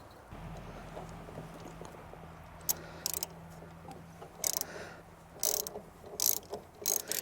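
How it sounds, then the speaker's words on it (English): A spark plug socket wrench ratcheting as it loosens a spark plug on a John Deere lawn tractor, with a low hum early on and bursts of close clicking in the second half, no speech. "Always want to use a spark plug wrench when removing spark plugs."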